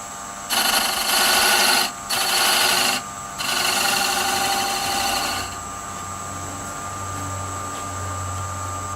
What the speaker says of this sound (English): Okay, I'm going to sand that a little bit.